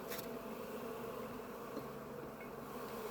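Honey bees swarm and hum steadily at an open hive while frames are lifted during the autumn honey harvest, a dense buzzing drone that holds close and constant throughout with no voices.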